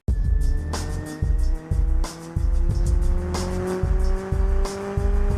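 A car sound effect of an engine revving through repeated surges with tire squeal, loud and close, rising pitched whines and throaty bursts cutting in and out.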